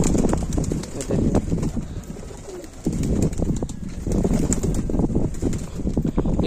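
Many pigeons leaving a coop one by one, cooing close by, with fluttering wing flaps and rustling in a dense, continuous flock sound.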